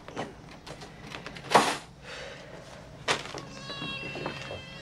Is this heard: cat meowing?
yes